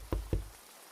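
Two quick knocks on a door inside the video game Grimshire, close and fairly loud, spaced apart with a brief fading tail and no speech.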